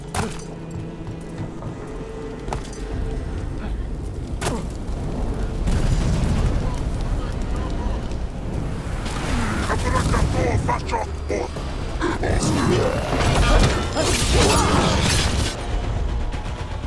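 Cannon fire booms repeatedly in a Dragon Age: The Veilguard battle, heavy blasts and rumbling impacts stacking over clashing combat noise and shouted voices, growing denser and louder toward the end.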